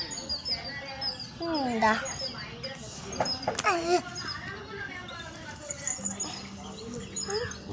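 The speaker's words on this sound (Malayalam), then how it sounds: "എനിക്ക് കിളികൾ എന്താ അവിടെ എവിടെയോ ശബ്ദം ഉണ്ടാക്കുന്നു" Small birds chirp somewhere near a pond in short, faint bursts, mixed with a voice and other talk close by.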